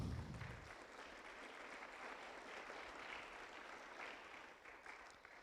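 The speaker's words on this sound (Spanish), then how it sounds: "Démosle palmas al Señor." A church congregation claps together in praise. After a brief low thump at the start, the applause holds as a faint, steady patter that continues evenly to the end.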